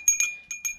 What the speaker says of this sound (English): You need a bell